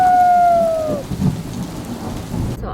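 Steady rain falls during a thunderstorm, with low rumbling thunder under the hiss of the rain, heard from inside a car.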